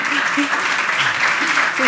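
An audience at a sports and physical activity forum applauds in a steady, dense patter of clapping, while people keep talking over the applause.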